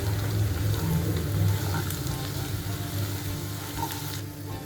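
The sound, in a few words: stirring potato bhaji with coriander leaves in a frying pan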